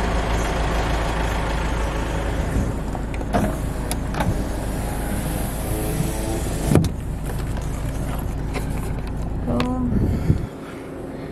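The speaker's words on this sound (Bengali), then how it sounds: "পরপর গাড়ি দাঁড়িয়ে আছে।" Cars and trucks sit idling in a traffic jam on the mountain road from Bagdogra to Darjeeling, a steady low engine rumble from inside a vehicle with occasional clicks and thumps, while people talk.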